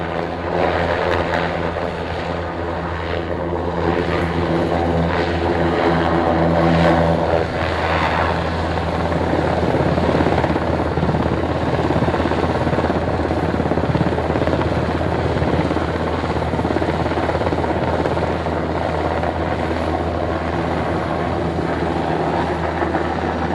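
A helicopter flies near Cambridge, its engine and rotor making a loud, steady roar that holds constant throughout with a continuous low throb, heard alone with no talking.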